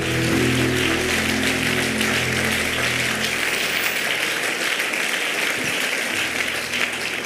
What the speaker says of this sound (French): Nous acclamons correctement.